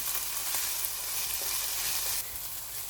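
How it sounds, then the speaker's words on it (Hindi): Chopped garlic sizzling and frying in a hot pan while being stirred, a steady close hiss with faint scraping, no voices. "लहसुन डालकर इसको मिक्स करना है जब तक कि लहसुन का कलर लाइट गोल्डन ब्राउन ना हो जाए।"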